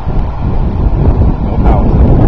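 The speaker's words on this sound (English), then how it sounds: "Look at that wind." Steady, loud wind buffeting the microphone throughout, a dense low rumble with gusty swells, recorded outdoors during a landing with an Alpha Wing loadstar.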